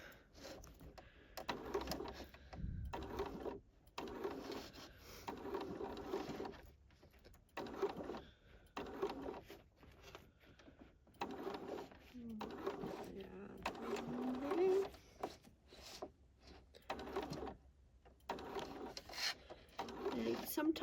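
A sewing machine stitching around the edge of a Luella clutch with matching thread, running in repeated short bursts of rapid mechanical whirring with pauses between, while a person talks throughout.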